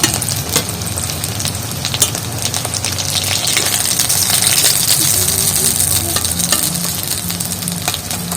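Eggs frying in a pan on a gas stove make a close, loud, steady sizzle and crackle that runs unbroken for the whole stretch, with scattered pops and light scraping.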